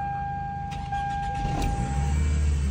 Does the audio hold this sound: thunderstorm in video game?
no